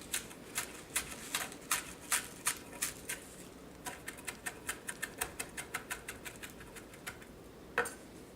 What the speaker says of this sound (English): Gonna chop up some the chives